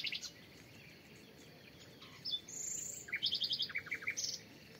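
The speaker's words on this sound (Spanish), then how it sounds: "Mira los pájaros." Several birds chirp and trill in short bursts in an overgrown vegetable garden, including a high whistle and rapid twittering, over a soft outdoor background hum.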